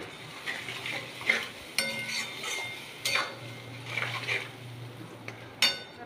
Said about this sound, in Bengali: সামান্য একটু জল দিয়ে মশলাটাকে ভালো করে কষিয়ে নেব।